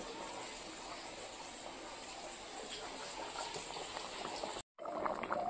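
Pea dal bubbling in a pot on the stove, a steady close simmering hiss with soft bursting bubbles throughout, briefly cut by a short gap near the end.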